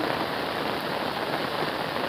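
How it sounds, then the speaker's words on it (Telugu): Heavy monsoon rain pours onto an umbrella outdoors in a rural hill area, a dense, loud, unbroken hiss of drops with no voices. "ఇదిగో ఏ విధంగా వర్షం అయితే పడుతుందో"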